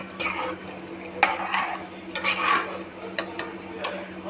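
A spoon scrapes and clatters through mutton biryani mixture in a pot, with irregular stirring strokes and light metallic knocks over a steady background hum, no voices.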